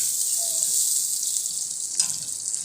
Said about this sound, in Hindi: अब इस डाल देंगे एक मीडियम साइज़ का प्याज और इसको कर लेंगे हल्का सा फ्राई।